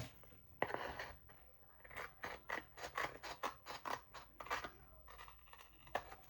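Scissors snipping through planner sticker paper, a quick series of close, crisp cuts in an uneven rhythm, quiet and alone without talk.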